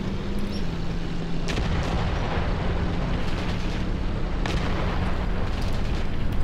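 Grenade explosions in the Graviteam Tactics wartime battle game: a steady roar of battle with heavy booming blasts, two sharp bursts standing out near the start and middle over continuous rumble, with no voices.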